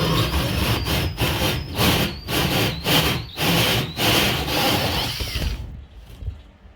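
A tool bores a centered hole into plasterboard with repeated rotating, grinding strokes, loud and close, in rhythmic bursts before tapering off.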